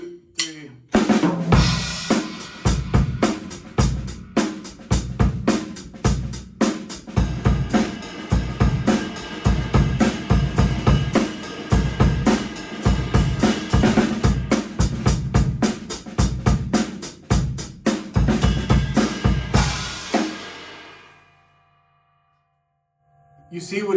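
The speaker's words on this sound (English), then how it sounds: "Disorganized rock beat sounds like this." A beginner drum kit plays a deliberately disorganized rock beat, the player switching between ride cymbal and hi-hat at random over steady kick and snare hits, loud and close for about twenty seconds before ringing out.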